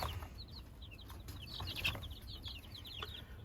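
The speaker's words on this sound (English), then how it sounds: "this is our black copper morans. Got a few barnyard mixed in with them." Black Copper Marans, barnyard mix and Easter Egger chicks in a remodeled coop, giving soft, frequent high peeps and clucks in a steady scatter over a low background hum, no talking.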